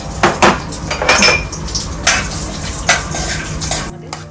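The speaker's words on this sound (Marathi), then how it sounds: "तर आता गरम तुपामध्ये आपण थोडे बदाम घालणार आहोत" Almonds and cashews are stirred in hot ghee in a pan, with scraping spoon strokes and clinks against metal over a soft frying sizzle, close and fairly loud.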